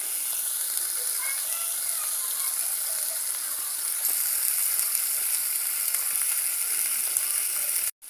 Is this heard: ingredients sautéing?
yes